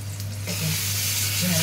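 Okra frying in oil for sambar, a soft sizzle that swells slightly near the end, with a low steady hum under it.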